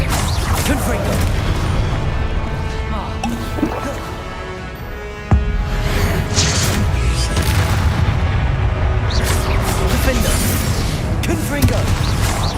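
Confringo explosion spells in Hogwarts Legacy burst as heavy booms and crashes over a busy battle din, with one sharp blast standing out midway and voices shouting throughout.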